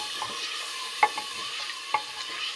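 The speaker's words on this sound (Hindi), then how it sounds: "गोश्त को हम मसाले के अंदर अच्छे से भून लेंगे।" Mutton stir-fries in masala inside a handi for a turnip meat curry. Soft sizzling runs beneath a few distinct spoon scrapes and taps against the pot, fairly quiet.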